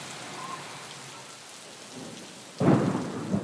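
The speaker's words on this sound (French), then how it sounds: "En cas d'orage et d'éclair," Thunderstorm on an airport tarmac: a faint rumble of distant thunder and light rain gives way to a sudden loud burst of heavy rain and thunder in the last second, with no talking.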